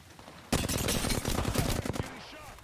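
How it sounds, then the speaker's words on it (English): Gunfire in Apex Legends bursts out suddenly in a rapid, loud string of shots lasting over a second, then trails off, with a voice briefly mixed in. "we're rotating to some gunfire close by"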